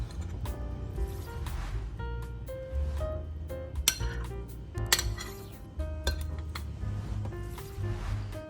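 Cooked chickpeas are stirred with olive oil in a bowl, with a spoon clinking repeatedly against the dish in quick irregular taps over soft background music.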